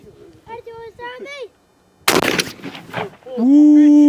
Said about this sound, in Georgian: გავისროლოთ, ესე იგი წნევა 1350 ბარი აქვს ამ ვაზნას, საკმაოდ მაგარია.